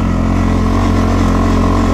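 An ATV engine revving hard and loud throughout, a steady, close, continuous roar.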